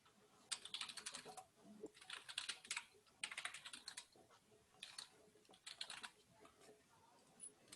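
Typing on a computer keyboard in bursts of quick clicks with short pauses between, close and moderately loud in an otherwise quiet room.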